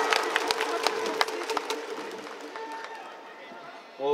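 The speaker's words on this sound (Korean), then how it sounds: "박수를 부탁드립니다." A baseball crowd claps and cheers in a large stadium, a steady wash of applause with scattered louder claps that gradually thins toward the end.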